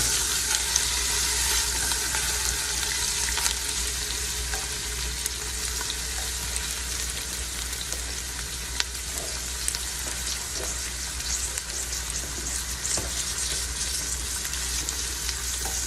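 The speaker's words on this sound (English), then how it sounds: "Add in our onions. Let those cook down." Onions cooking down in oil in a pot, a loud steady frying sizzle with a dense continuous hiss and occasional small pops and stirring scrapes, close up and without voices.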